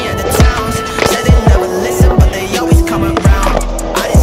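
Skateboard fitted with a bolted-on plastic piece rolling and repeatedly landing and slapping, giving a series of sharp, loud knocks roughly every half second over continuous wheel roll, with no talk.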